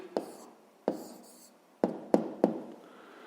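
A pen writes on paper in a quiet room, several short scratchy strokes and taps with pauses between, close and soft, with no talk.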